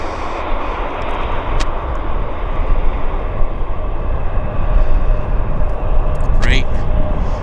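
A plane rolling out after landing at Vancouver airport makes a steady broad roar of engine and runway noise heard from a distance, with a spoken voice briefly over it.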